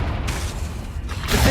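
A Confringo blasting spell explodes in Hogwarts Legacy, a dense rumbling boom that holds steady and swells again at the end, loud and close throughout.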